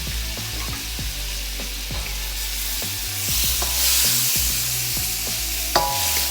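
Shrimp stir-fried with curry powder in a pan for a Thai seafood curry, giving a loud, continuous close sizzle with repeated scraping and clinking of a utensil against the pan.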